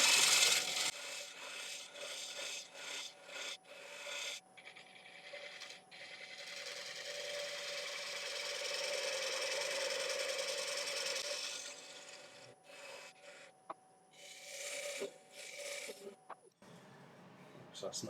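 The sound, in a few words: wood lathe at 550 rpm, gently cutting away bowl wood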